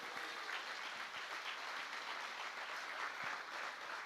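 A church congregation applauds during a worship celebration service, a dense, steady wash of many hands clapping together for the full few seconds, moderately loud and without any voices.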